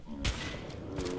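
Gunfire from the video game Fallout 4: a couple of loud, sharp shot bursts, one early and one near the end, over a dense game soundscape.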